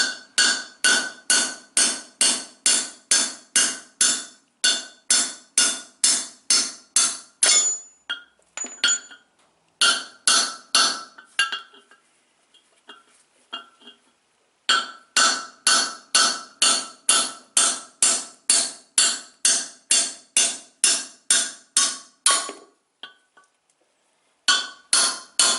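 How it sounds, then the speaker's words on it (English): Sharp metallic hammer blows drive the studs out of a 1978 Chevy square-body truck part, struck through a piece of brass in fast, steady runs of ringing clinks with short pauses between bursts. "a hammer and a piece of brass. That's how you get the studs out of this sucker."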